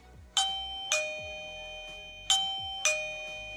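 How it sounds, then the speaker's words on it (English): A eufy Security E340 dual camera video doorbell sounds its chime: four clear, bright electronic dings in two ding-dong pairs, each ringing out and decaying, close and fairly quiet. "There's the chime there"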